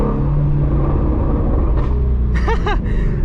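A Ford Mustang GT350 engine heard from inside the car, a loud steady low rumble throughout, with a few brief higher whines and squeaks near the end.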